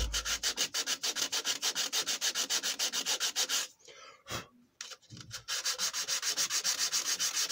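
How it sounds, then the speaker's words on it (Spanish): Steady rhythmic rasping of hand sanding on a very hard wood coral bowl, quick back-and-forth strokes, a brief pause with a breath, then the sanding resumes. "No es que sea fácil de lijar."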